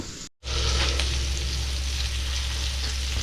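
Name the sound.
mutton pieces frying in a pan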